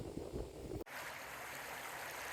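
Small creek in New Brunswick flowing over little rocks, a soft continuous rush and trickle of water heard close by, with a brief gap where the sound cuts out before resuming steadily.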